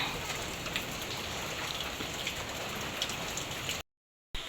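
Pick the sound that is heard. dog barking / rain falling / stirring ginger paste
rain falling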